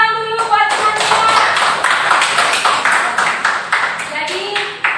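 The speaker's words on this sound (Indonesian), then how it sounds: "Tepuk tangan dulu buat teman-teman" A class in an Indonesian teacher-training lesson claps hands together in a quick, fairly loud patter of overlapping claps, with tonal voices or music sounding at the start and end.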